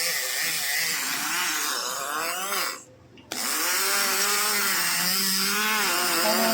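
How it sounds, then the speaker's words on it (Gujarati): A kitchen blender whirs loudly and steadily while blending a milk mixture for mawa candy, cutting out for a brief moment before the motor roars back up and runs on. "તો આ રીતે આપણે બ્લેન્ડર કરી લઈશું।"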